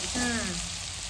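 Eggplant curry with a spoonful of chutney being stirred in a hot oiled pan, giving a brief steady sizzle with a short scraping stir and a faint tonal whine near the start.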